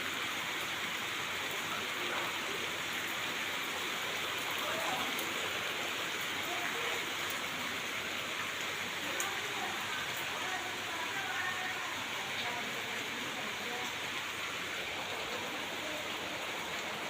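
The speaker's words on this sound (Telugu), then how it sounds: "పొద్దున్నే వర్షం పడుతుంది" Steady morning rain falls in an even, continuous hiss that fills the whole stretch with no break or pause.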